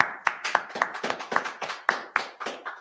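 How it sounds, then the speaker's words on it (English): Hands clap in a steady rhythm at a brotherhood class gathering, about ten sharp claps spaced evenly, fairly close and crisp with no talk over them. "Let's clap it up."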